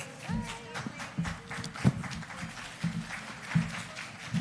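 Scattered applause for moderators at a public service excellence awards event, sparse and uneven claps with a few louder hits against background room noise.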